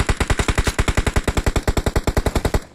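Automatic gunfire in the PUBG Mobile battle royale game, a rapid, evenly spaced burst of about two dozen loud close shots fired in one sustained stream.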